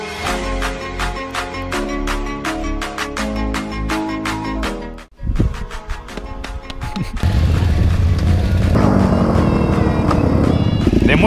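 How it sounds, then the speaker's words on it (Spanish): A small 11-horsepower motorcycle engine revs hard up close off-road, pitch rising and falling through gears, briefly dropping out before roaring steadily again. "Demuestra lo que puede hacer una moto de 11 caballos."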